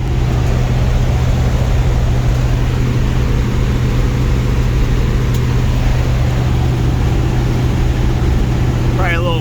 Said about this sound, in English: Probably a little wind noise